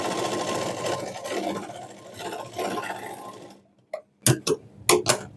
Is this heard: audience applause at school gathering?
no